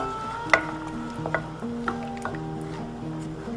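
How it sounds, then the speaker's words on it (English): Salmon chowder being stirred in a pot, with soft squishy, wet sloshes and a few sharper clinks of the spoon against the pot, fairly quiet and close with no talking. "Just stirring all of this together."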